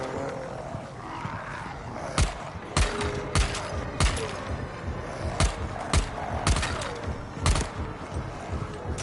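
Gunfire in the video game Dying Light The Beast, a string of loud, sharp shots fired singly and in quick pairs over a rumbling game soundscape with growls.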